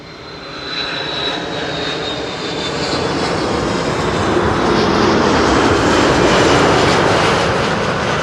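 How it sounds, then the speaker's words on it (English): A Delta Airlines jet arriving from Atlanta lands at Schiphol on the Kaagbaan runway. Its loud engine roar builds and swells steadily while it passes close by, with no talking. "This is Delta Airlines Flight 74, arriving from Atlanta, Georgia."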